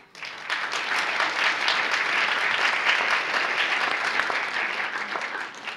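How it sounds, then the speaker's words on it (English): An evening audience at a healthcare event breaks into a round of applause for a lieutenant governor, dense clapping rising quickly and holding steady before easing off. "Give him a round of applause."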